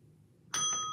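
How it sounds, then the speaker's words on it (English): A single bright bell ding rung to mark finishing a savings challenge, sharp strike with a ringing decay, close and alone after near silence. "we're gonna go ahead and ring the bell"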